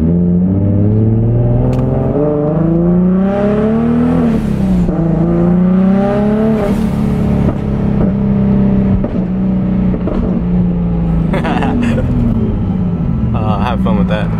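A powerful boosted sports car engine revs up and down repeatedly, its pitch sweeping high and falling, loud and close, with voices talking over parts of it.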